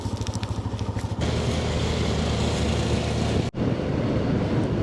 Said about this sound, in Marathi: सगळ्यांच्या इंजिन आयडलिंगवरती आहेत.